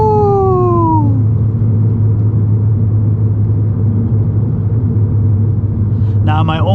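A turbocharged, 400-horsepower VW GTI hatchback with an aftermarket downpipe drones loudly on a canyon drive, shifting down from a rising whine into a deep, steady rumble, with a brief voice near the end.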